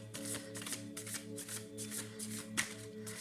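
Tarot oracle cards are shuffled in quick, papery riffling bursts that repeat across the few seconds, close and steady, with a soft musical bed running underneath.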